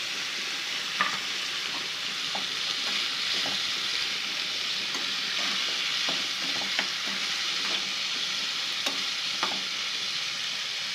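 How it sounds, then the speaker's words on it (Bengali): Bitter gourd and potato coated in salt and turmeric fry in a wok over a low gas flame, giving a steady soft sizzle broken by occasional stirring clicks and scrapes. "উচ্ছে আর আলুটাকে আমি নুন আর হলুদ মাখিয়ে কড়াতে দিয়ে দেবো।"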